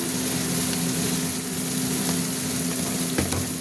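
Ground spices with salt and coriander powder sizzling in a pan, a dense continuous frying hiss with a low steady hum beneath and faint stirring scrapes.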